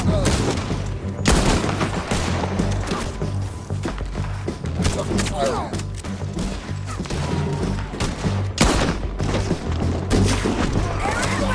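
Heavy gunfire from a Red Dead Redemption 2 shootout: dense, rapid volleys of shots and booming blasts fill the whole stretch, loud and close, with shouted game dialogue breaking through at times.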